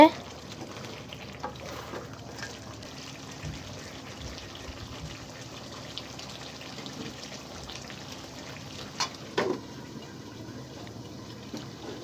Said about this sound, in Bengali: এই যে ঢাকনাটা খুলে আবার একটু নাড়াচাড়া করে দিচ্ছে